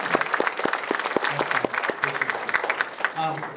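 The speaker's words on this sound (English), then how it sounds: "One more round of applause for our panel." Scattered, fairly close clapping for a panel at a real estate event, with sharp individual claps in an irregular rhythm and a few voices mixed in.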